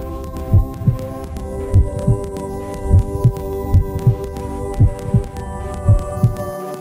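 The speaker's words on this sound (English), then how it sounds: "I try to hear their heartbeat." A heartbeat sound effect plays as steady, deep lub-dub thumps in regular pairs, heavy and close, over a sustained low hum.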